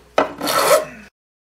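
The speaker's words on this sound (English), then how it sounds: "there's a lot more filing on this side" A metal file rasps once across the frets of a worn Gibson A model mandolin fretboard, a close, sharp, gritty scraping stroke lasting under a second before cutting to silence.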